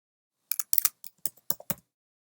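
Keys clatter in short irregular bursts on a computer keyboard while text is typed into an HTML file, crisp and close with brief pauses between strokes.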